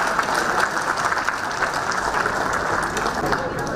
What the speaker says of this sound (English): So they do deserve a round of applause.